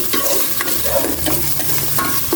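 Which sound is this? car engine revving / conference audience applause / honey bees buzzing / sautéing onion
sautéing onion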